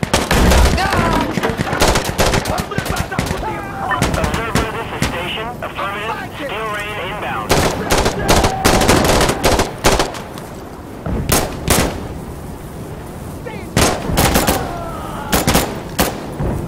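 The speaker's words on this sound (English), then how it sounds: "Blow them up. Fire rounds right here." Gunfire in the Insurgency: Sandstorm video game, loud repeated shots and bursts crackling throughout a hectic firefight, with voices calling out under and between the shots.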